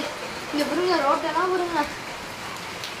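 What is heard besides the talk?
rain falling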